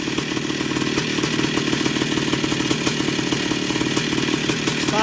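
A 1982 Yamaha YZ490 two-stroke dirt bike engine runs after a rebuild, a loud, close, steady rattling idle with rapid even firing pulses throughout.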